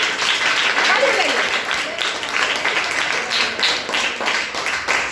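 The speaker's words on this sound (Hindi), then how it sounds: "तो इसके लिए जोरदार ताली।" Audience of students at a school event applauding loudly and continuously, a dense wash of many hands clapping with faint voices mixed in.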